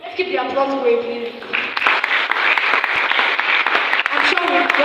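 An audience at a youth development workshop breaks into steady applause after a short spoken phrase, clapping continuing loud and dense to the end with a voice faintly over it.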